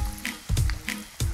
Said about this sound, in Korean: 오, 튀김 소리, 튀김 소리.